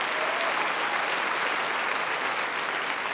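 Orchestra musicians applauding on stage at a classical music talent show in Toulouse, a dense, even, continuous round of clapping filling the whole stretch.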